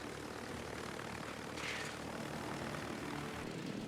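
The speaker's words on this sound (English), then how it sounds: "Fighter aircraft consumable that he launched is now going to get it on my tail and shred my aircraft" Fighter aircraft in a naval video game drone past with a steady propeller-engine roar, loud and continuous with a brief swell in the middle, without talk.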